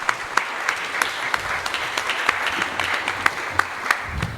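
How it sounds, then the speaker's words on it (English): A huge round of applause breaks out from the audience at a Sunday love feast gathering, dense, close and loud clapping with sharp individual claps standing out and held steady for a few seconds. "So we need a huge round of applause,"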